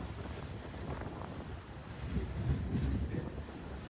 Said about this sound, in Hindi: और इस ट्रेन जो कि मेरे घर के पास से आ रही थी कामाख्या दिल्ली, 5657 ट्रेन, इस पर हम लोग को छोड़ रहे हैं।